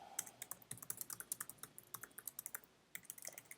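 Rapid typing on a computer keyboard, a quick patter of close, crisp keystrokes with a brief pause before a few more, quiet and with no voices.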